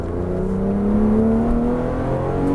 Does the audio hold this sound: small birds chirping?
no